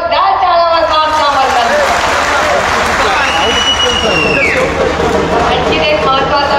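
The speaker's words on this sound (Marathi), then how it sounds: "जोरदार टाळ्या आमच्या" Crowd applause at a political campaign rally, dense sustained clapping and cheering mixed with loud talk over a public address system throughout.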